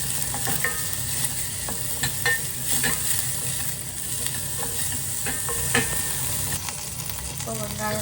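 Chopped onions frying in oil in a pan while preparing dosa, a continuous loud sizzle with scattered scraping and stirring clicks from a spatula, no talking over it.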